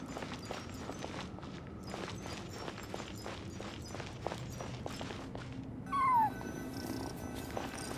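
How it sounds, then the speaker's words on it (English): A cat cries in the Genshin Impact game during ruins exploration, a sharp meow near the end over soft repeated footsteps and a low ambient hum. "I followed the cat's cries"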